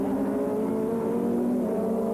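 Supertouring race cars at the 1994 French championship finale at Lédenon: a loud, steady engine drone with strong tonal harmonics holds without a break, like cars running close together on the circuit.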